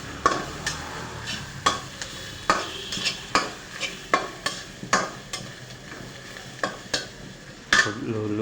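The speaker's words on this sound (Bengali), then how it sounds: "হলুদ দিয়ে হালকা লাড়া দিই" Turmeric stirred into spices frying in a pan: a steady sizzle under repeated scraping strokes of a spoon against the pan, close and fairly loud, with no talking.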